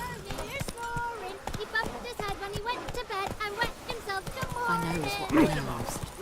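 Roach, Geralt's horse in The Witcher 3, gallops with rapid rhythmic hoofbeats close by, under a voice speaking throughout.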